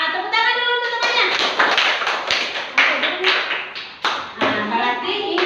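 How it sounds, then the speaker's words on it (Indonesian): Classmates in a school class clap their hands together, a dense flurry of claps that rises and falls in bursts, with children's voices and chatter mixed in throughout. "Tepuk tangan dulu untuk temannya."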